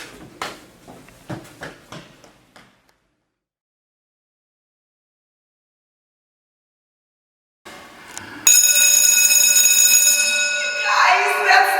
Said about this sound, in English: Guys, that's the bell.